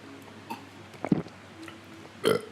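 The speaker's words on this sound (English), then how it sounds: "I burped" A couple of short, low throaty burps from a man, close and fairly quiet, separated by brief pauses in an otherwise quiet room.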